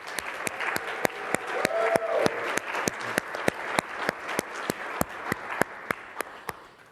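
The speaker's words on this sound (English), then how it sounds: "Round of applause for Panos." A round of applause at a tech summit in Redmond, sustained audience clapping with a few sharp, regularly spaced claps standing out above the crowd wash, gradually tapering off toward the end.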